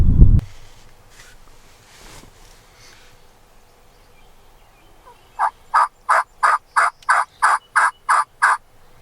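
A wild turkey gobbles near hunting decoys during an opening-day bowhunt, about ten loud, evenly spaced gobbles in a steady rhythm after a quiet stretch, close and clear with no talking.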